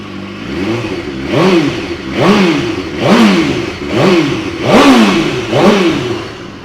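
A 2012 BMW S1000RR sport motorcycle with a titanium Akrapovic exhaust revs hard over and over, about six sharp rising-and-falling blips in steady rhythm over a running idle, loud and close.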